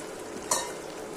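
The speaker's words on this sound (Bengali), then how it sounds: "এখন হালকা একটু জল দিয়ে দিচ্ছি, একটু মশলাটা মাখামাখি" Egg and onion masala sizzling steadily in a pan while it is stirred, with one sharp hiss and splash as a little water goes in midway.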